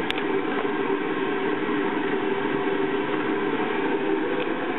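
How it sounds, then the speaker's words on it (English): An electric kettle heats water for tea early in the morning, giving a steady, close broadband hiss and rumble that holds level throughout with no voices. "I'm waiting for my tea water to boil."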